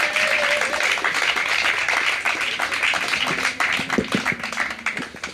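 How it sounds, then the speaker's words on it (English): A festival crowd at Beacons Festival claps loudly and steadily to welcome a speaker on stage, dense applause that thins toward the end with a few brief voices. "please give a huge round of applause for Simon Wilson"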